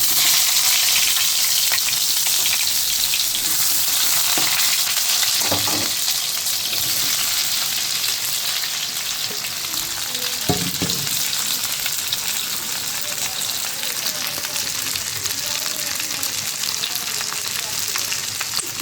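Onions fry in a pan with a steady, close, continuous sizzle that holds for the whole stretch, broken only by a few brief knocks around the middle.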